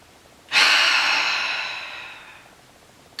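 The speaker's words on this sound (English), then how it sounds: "Take a nice deep inhale and exhale." A single deep breath drawn in and let out slowly during a guided relaxation exercise, starting abruptly and fading gradually over a few seconds, close and fairly loud with no talking.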